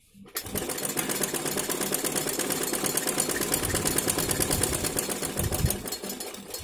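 A sewing machine runs fast and continuously, stitching the side seam of a straight-cut long gown made from an old saree, its rapid needle rattle steady and close throughout.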